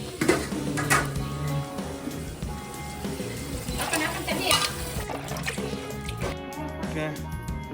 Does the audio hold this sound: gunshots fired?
no